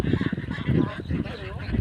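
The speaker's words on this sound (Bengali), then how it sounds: "এখানে ঘুরতে আসছে কতগুলো হাঁস" White ducks on a river char called Merur Char give repeated nasal, honking calls close by, fairly loud and continuous.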